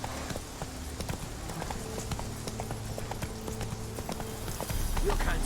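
A horse trots at a steady pace in The Witcher 3, its close, even clip-clop hoofbeats running throughout over a low, continuous background of game ambience.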